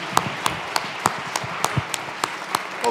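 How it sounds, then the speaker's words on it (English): Sparse applause during a church gathering at St. Monica Church, with scattered individual claps at a loose, regular pace, fairly faint and distant, with no talk over it. "Let's just give another round of applause."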